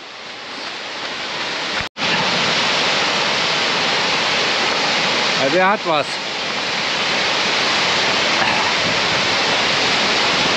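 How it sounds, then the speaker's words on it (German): Loud, steady roar of a waterfall crashing down nearby, a dense wall of rushing water, with a brief spoken exclamation partway through. "mir scheint, wir nähern uns dem Wasserfall."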